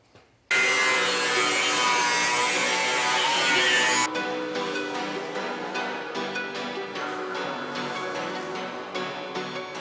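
A truck's pinch seam is cut out to clear larger tires: a loud, steady cutting burst runs for several seconds, then gives way to rhythmic rasping strokes of metal being cut, close up and with no talking.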